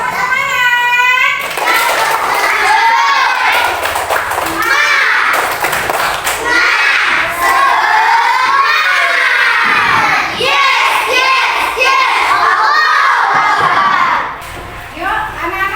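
Schoolchildren in a classroom loudly chant a rhythmic clapping cheer, their high voices shouting in unison with thumping claps mixed in, close and boisterous throughout, briefly softening near the end.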